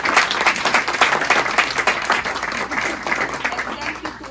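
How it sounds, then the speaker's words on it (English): An audience applauds panelists at a climate finance event, a dense, steady wash of many hands clapping that holds loud throughout with no break. "I hope you can join me for an applause to them."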